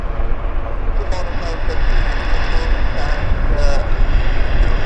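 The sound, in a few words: airplanes at Vancouver Airport YVR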